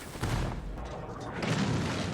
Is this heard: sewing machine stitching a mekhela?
no